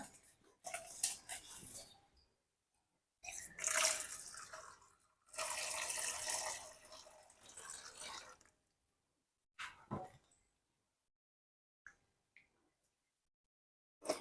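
Water splashes and pours into a bowl of bitter gourd in several short bursts with pauses between, followed by a few faint drips and clinks near the end.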